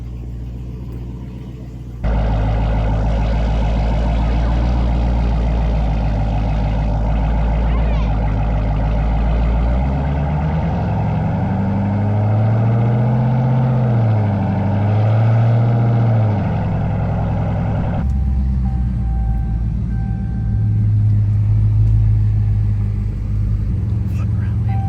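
A Dodge Hellcat engine rumbles deep and loud while the car is driven, with a rising and falling revving sweep in the middle that settles back to a low drone. Voices talk over it.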